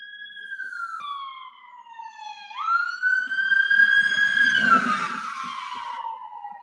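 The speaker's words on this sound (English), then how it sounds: "Let you get some siren action" A police siren in Dayton wails, its pitch sliding down then sweeping up again, growing louder as it passes nearby amid traffic rumble.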